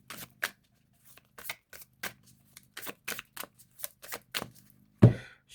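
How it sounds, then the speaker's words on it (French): A deck of tarot cards is shuffled in quick, close, crisp bursts of riffling and sliding, repeating in an uneven rhythm, ending with a soft thump. "je vais mélanger le jeu"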